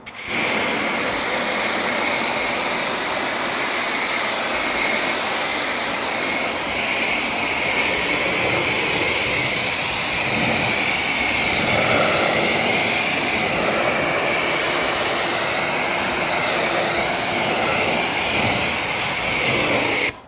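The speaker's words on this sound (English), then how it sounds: "Let me go ahead and rinse this front end" A car's front end, coated with C6 Ceramics Hydro Lite, gets a first rinse from a water spray: a loud, steady hiss that runs without a break for the whole stretch, with no voices.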